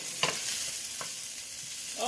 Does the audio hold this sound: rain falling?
no